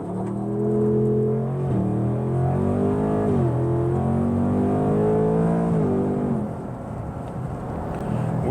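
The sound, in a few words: 2024 Ford Mustang GT accelerating in launch control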